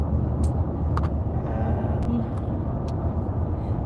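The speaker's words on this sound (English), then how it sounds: "I am driving home." Steady low road rumble from inside a moving car on the drive home, a constant cabin drone with a few faint clicks and knocks, while someone talks over it.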